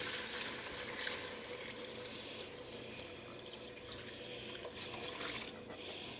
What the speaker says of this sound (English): Now we are going to add our beef broth.